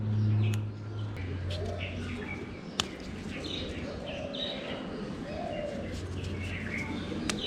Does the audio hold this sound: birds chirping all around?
yes